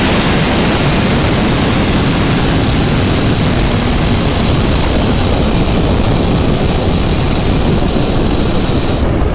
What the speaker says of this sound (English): That turbo just blew off for a quarter mile